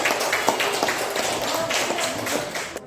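Classroom applause for a student: a few seconds of scattered, uneven hand clapping from a small group, moderately loud and fairly close.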